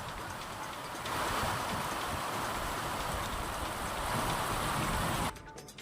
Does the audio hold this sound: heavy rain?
yes